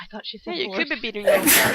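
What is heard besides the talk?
sneeze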